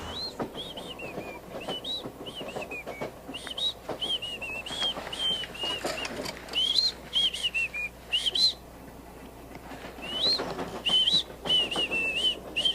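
Someone whistles a wavering, high-pitched tune in repeated short phrases, with a few pauses, fairly close and clear over quiet background.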